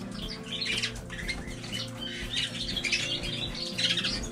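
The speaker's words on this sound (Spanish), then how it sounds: "Aquí estoy enseñando un poquito de pájaros reproductores." Breeding canaries and goldfinches in cages squawk and chirp in a dense, continuous chatter, moderately close with overlapping calls throughout.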